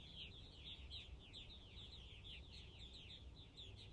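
Purple martins call while flying overhead on an evening in Eastern Long Island, New York, giving a steady stream of faint, distant chirps and twitters over low background rumble.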